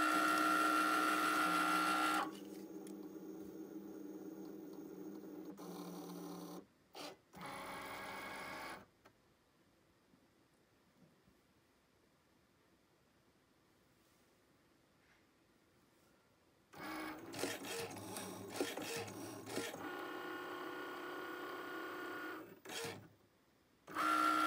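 A Cricut cutting machine whirs and clicks in two loud mechanical bursts as its carriage moves to detect the scoring stylus and scoring wheel, with a quiet stretch in between.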